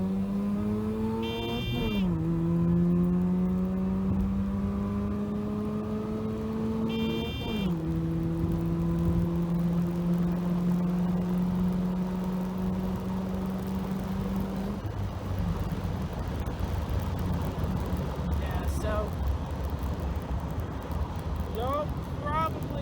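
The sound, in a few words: 1985 Mazda RX7 with 13B swap at full throttle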